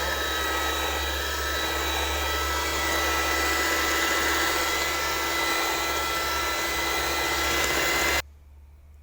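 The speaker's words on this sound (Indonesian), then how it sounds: "Ini kita mixer seperti ini sampai berubah warna sedikit pucat dan kental" An electric hand mixer runs at high speed beating batter for steamed brownies, a loud, steady close whir that cuts off abruptly near the end, leaving near silence.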